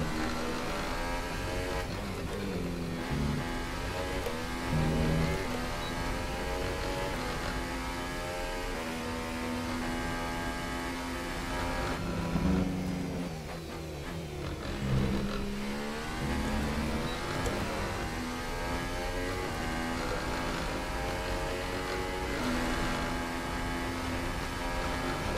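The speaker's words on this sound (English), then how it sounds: "And the car sounds even more like a rattlesnake." A Formula 1 car engine in the F1 2018 racing game runs with a buzzing, rattling tone, rising and falling through gear changes and repeated revving, loud and continuous with no talk over it.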